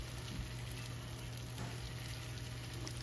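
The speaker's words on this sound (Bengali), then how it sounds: "এখন কুমড়ো আর পটল দেওয়ার পরও আরও 2-3 মিনিটের জন্য ভালো করে ভেজে নেব সমস্ত সবজি" Potato, pumpkin and pointed gourd fry in a pan with a soft, steady sizzle and crackle, faint and continuous under a low hum, with no talking.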